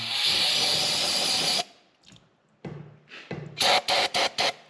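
Short bursts of aerosol cleaner sprayed into the oil filter housing of a 2019 KTM 450 SX-F Factory Edition dirt bike, following a long steady hiss; several quick close hissing spurts come after a pause.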